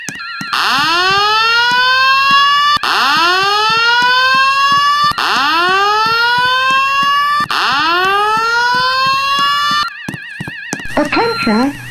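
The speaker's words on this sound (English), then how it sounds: "Attention, there has been a fire alarm reported in the building." Building fire alarm siren during a station alarm system test, loud repeated rising whoops in several identical cycles, followed by a warbling electronic tone.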